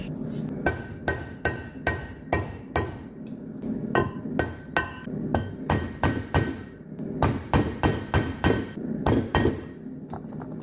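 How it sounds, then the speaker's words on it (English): Steel hammer striking a punch to peen a bushing in a 1973 Dart Torqueflite transmission, a string of sharp metallic taps in small irregular clusters, close and clear with no talk. "Now we'll just get a punch and peen the bushing over in these places."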